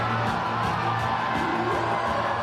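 Home crowd at a Paris 2024 Paralympic goalball match keeps up a steady, dense roar of cheering and whoops in an indoor arena, with scattered shouts rising over the continuous noise.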